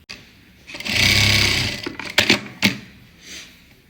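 A sewing machine runs while stitching lace onto a garment sleeve, giving one sustained close burst of stitching followed by a few short starts and stops, with no talk.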